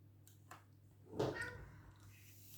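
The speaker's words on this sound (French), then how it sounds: "si vous entendez des bruits de chat derrière," A single short, faint cat vocalization rises briefly out of a quiet room hum, with a couple of soft bumps before it.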